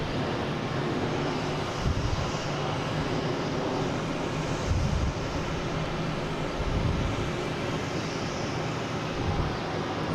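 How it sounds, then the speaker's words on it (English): A JetBlue Airbus A321neo arriving from Santo Domingo at Boston Logan passes close by with a loud, steady jet engine roar that holds for about ten seconds, swelling slightly in places. "JetBlue coming in from Santo Domingo."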